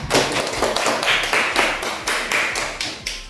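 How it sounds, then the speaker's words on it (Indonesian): Students in a classroom clap their hands together in a quick, steady burst of loud, close claps that continue evenly from start to finish, with no talking over them. "Tepuk tangan dulu untuk Yun yang sudah bertanya."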